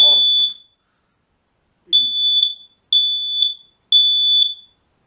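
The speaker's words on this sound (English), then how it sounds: "Cover your ears, it's going to get loud here." Kidde wireless smoke alarms sound their test alarm in a series of loud, shrill high-pitched beeps, one short burst followed by three more evenly spaced pulses, with a brief voice at the start.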